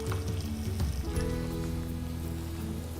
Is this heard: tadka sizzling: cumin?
yes